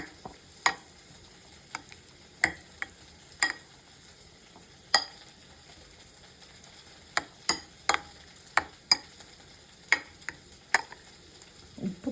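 Okra being stirred into a curd mixture for vendakka pachadi, heard as a series of sharp, irregular clinks and scrapes of a spoon against the bowl at close range, with no talking.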